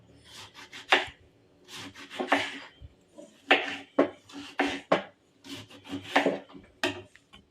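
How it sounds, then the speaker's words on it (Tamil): A knife cuts a bottle gourd into large pieces, making short bursts of crisp slicing and scraping against a board, separated by brief pauses. The sound is close, with no talking. "சுரைக்காயை நான் நல்லா பெருசாகவே கட் பண்ணியிருக்கேன்"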